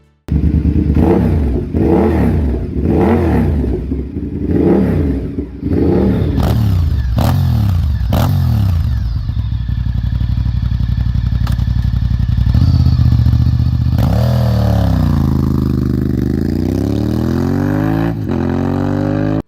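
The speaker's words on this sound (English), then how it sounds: "just to hear that deep twin roar echoing through every corner" A V-twin superbike exhaust revs hard in repeated deep bursts, then roars loudly through acceleration and gear changes, close and powerful.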